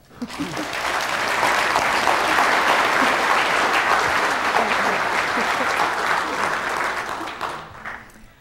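Audience applause welcoming a speaker at a science colloquium, a dense sustained clapping that swells quickly, holds steady for several seconds, then tapers off near the end.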